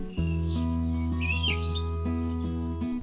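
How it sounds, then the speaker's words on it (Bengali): Forest birds chirp and tweet in short high bursts along a woodland footpath, heard above a steady low sustained drone. "পাখিদের কলকাকলি"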